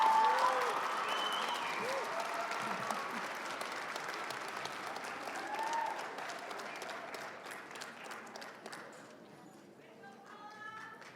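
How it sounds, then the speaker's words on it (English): Applause from a graduation audience as nursing diploma graduates cross the stage, loud at first and then thinning and fading. A voice talks over the clapping. "One big round of applause"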